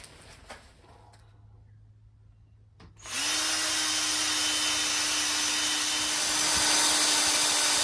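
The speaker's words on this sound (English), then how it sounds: "drill out that bit of timber and get that clean" A power drill boring out a piece of timber starts up after a quiet pause and then runs as a loud, steady whine, near and alone.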